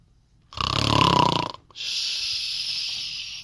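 A storybook giant snores loudly: one long, rasping, rattling inhale followed after a brief pause by a breathy, hissing exhale, both close and alone.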